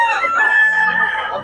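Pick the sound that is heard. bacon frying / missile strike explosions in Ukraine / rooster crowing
rooster crowing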